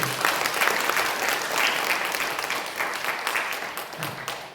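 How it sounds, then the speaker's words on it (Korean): A church congregation at a Sunday service applauds with steady, fairly close clapping that swells and slowly tapers off, with a few faint voices underneath. "박수 한번 다시 한번 해주세요"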